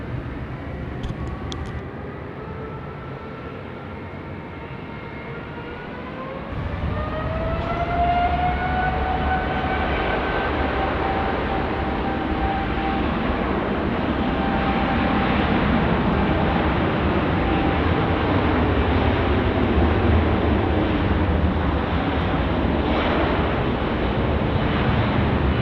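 Airliner taking off from runway 16 right at Sydney Airport, jet engines spooling up with a rising whine and then a sustained loud roar as it rolls down the runway.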